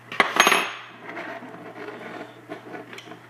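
A clamp cranked down onto a BiX cable connector during cable assembly, giving a few sharp metallic clicks and rattles up close, then a softer scraping clatter tapering off under a steady low hum.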